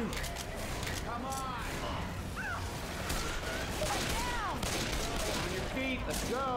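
Rapid gunfire in the zombie shooter Left 4 Dead 2: dense, overlapping bursts crackle steadily throughout, mixed with game noise, while players talk over the action.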